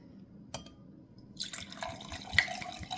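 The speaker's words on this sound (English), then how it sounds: "poured myself a glass of white wine" White wine from Italy being poured into a glass, a soft liquid trickle and drips building in the middle and running steadily to the end, close and fairly quiet.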